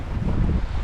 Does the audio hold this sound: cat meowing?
no